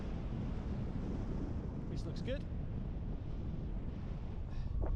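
Strong, steady wind roars and buffets the microphone on a hillside during a paragliding landing, with a person briefly speaking partway through under the rushing noise.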